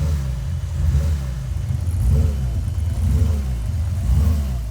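A BMW E36 325i with an M54B30 engine idles steadily and close by, a deep, even rumble with slight rhythmic surges and no talk over it, running during a check-up after a rebuild.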